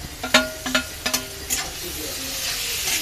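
Chopped tomatoes dropped into onions browning in a pan: several sharp clattering hits and stirring scrapes, then a rising steady sizzle and hiss, close and fairly loud, with no talk.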